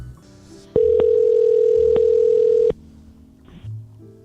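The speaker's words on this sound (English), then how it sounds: "Give James a call." A steady telephone dial tone holds for about two seconds, loud and unbroken apart from a few faint clicks, then cuts off, leaving quiet room noise and a brief soft sound after.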